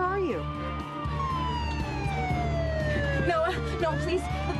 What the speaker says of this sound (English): Noah, what's that siren?